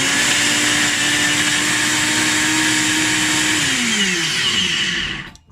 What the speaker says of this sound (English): Okay, so let's blend.